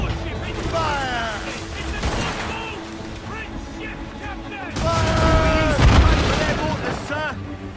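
Ship cannons firing in the naval game Assassin's Creed Rogue, deep booms and rumbling volleys under shouted crew voices, swelling into a heavier barrage in the second half.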